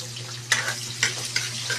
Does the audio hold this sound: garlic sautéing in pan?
yes